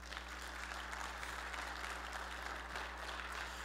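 A church congregation claps for Jesus during a worship service, a steady, moderately distant applause over a constant low electrical hum, with no talking.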